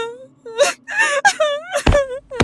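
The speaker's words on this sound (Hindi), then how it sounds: "पीछे से एक लड़की की रोने की आवाज आ रही थी।" A girl cries in drawn-out, wavering wails and whimpers, breaking off between sobs, close and loud with no other sounds.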